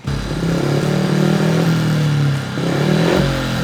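A motocross motorcycle engine revs loudly and steadily near the listener, with a brief dip in pitch midway before climbing again, the rough throbbing engine note filling the whole clip.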